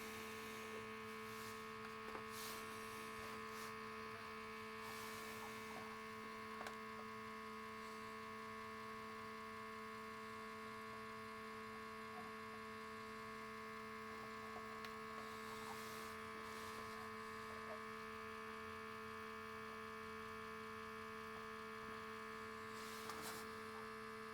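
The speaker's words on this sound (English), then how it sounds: "So let's go ahead and fill that with the pump" Electric pump humming steadily while filling oil into an electric vehicle, a constant motorized drone with faint clicks and small scrapes scattered over it, and no talking.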